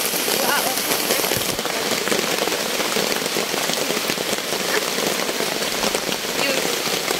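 Rain pours onto a freshly built shelter roof at a garden stream, a constant loud hiss of drops with sharper pattering hits, steady throughout.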